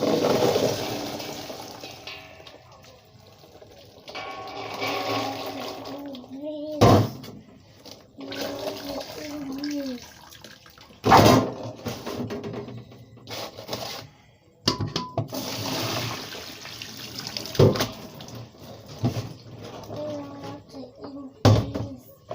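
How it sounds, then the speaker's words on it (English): Water running and splashing as boiled beans are rinsed in a Nigerian village kitchen, with long stretches of gushing and sloshing broken by a few sharp knocks, close and fairly loud, with no talk. "So I've rinsed the beans."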